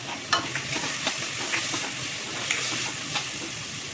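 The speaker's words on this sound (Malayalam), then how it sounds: "ഒരു വലിയ തക്കാളി ചെറുതായി അരിഞ്ഞതും കൂടി ചേർത്ത് കൊടുത്ത് നന്നായിട്ടൊന്ന് വഴറ്റിയെടുക്കണം" Chopped tomato sautéing in a pan with onion, green chili and curry leaves: a close, continuous sizzle broken by repeated scraping stirs, no talk.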